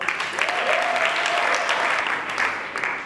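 A church congregation applauds steadily throughout at a women's convention, a dense wash of clapping with a faint voice or tone drifting underneath.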